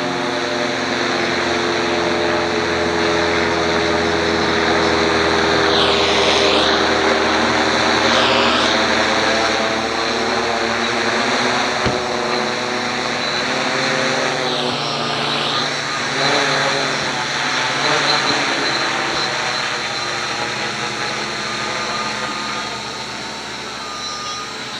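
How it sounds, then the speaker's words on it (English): A light aircraft flying overhead during a quadcopter outing outdoors, a steady droning engine hum that swells and holds for the whole stretch with wind noise, fairly loud and without talk. "A light aircraft about to fly straight over the top."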